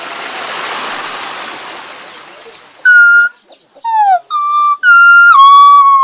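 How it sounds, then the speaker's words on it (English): Hmong leaf whistling, a green leaf blown as a long-distance signal in high mountain terrain, enters after a stretch of soft rushing water-like noise as a series of loud, clear, tonal whistled notes with gliding pitch, alone and without talk. "The Hmong, who live at high altitudes, use green leaves to communicate between two distant points."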